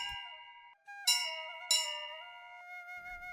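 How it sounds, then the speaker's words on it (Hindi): A school bell rings in an animated story, with two bright struck tones that sustain and overlap in a clear, ringing shimmer, fairly quiet and with no voices. "अभी स्कूल की घंटी बजी है।"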